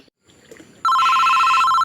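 A telephone bell rings loudly in one steady electronic burst lasting about a second, following a quiet stretch with faint background noise.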